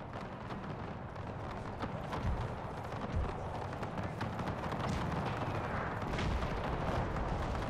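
Napoleon: Total War battle with artillery fire, dense continuous rumbling cannon booms and crackling musketry forming a loud, unbroken far-off din.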